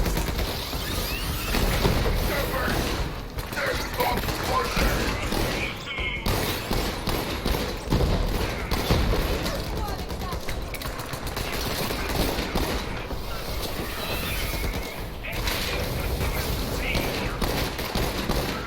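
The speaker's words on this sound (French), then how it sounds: "Je me fais tirer dessus." Continuous in-game gunfire from the looter-shooter video game Borderlands 3, dense rattling bursts and booms filling the whole stretch with a voice talking underneath.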